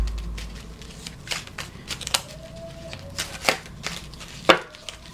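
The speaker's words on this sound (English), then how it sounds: "I'm still shuffling the brothers." Soft riffling and flicking of cards, with intermittent light taps and slaps against a quiet background.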